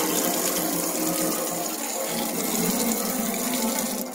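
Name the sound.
water flowing from garden hose tap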